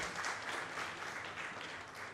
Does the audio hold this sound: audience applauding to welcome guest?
yes